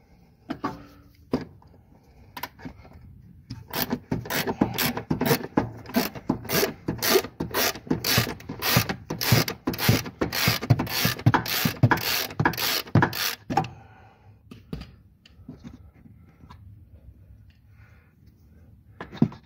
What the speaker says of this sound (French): je vais enlever cet écrou là. C'est un écrou de 10.